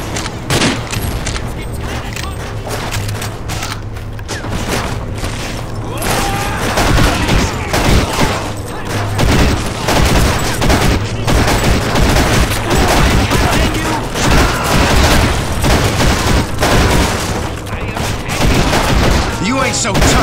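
Rapid gunfire in the video game NecroVisioN, dense bursts of shots and booms firing almost nonstop, loud and close, with a gruff voice speaking over parts of it.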